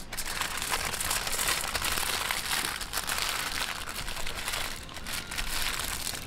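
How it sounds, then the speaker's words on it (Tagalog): Chicken embutido being wrapped by hand, a steady, close crinkling of foil or plastic sheet that runs unbroken for several seconds with no talking. "ibalot na po natin"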